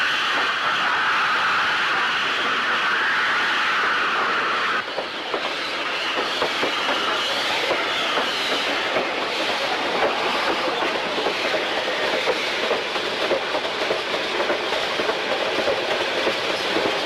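A train rolls past a platform with steady clickety-clack of wheels over rail joints, loud and close, the rumble filling the whole stretch with a brief shift in tone partway through as the wagons keep passing.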